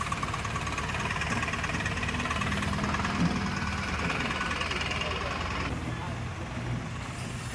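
A truck engine pulls away hauling a new boat toward Colachel harbour, a steady broadband rumble with a continuous low throb and faint knocking, loud and close throughout.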